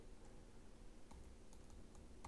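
Computer keyboard keys tap quietly while terminal Tetris is played over remote access to a Raspberry Pi, a few sparse, light clicks over a steady low background hum.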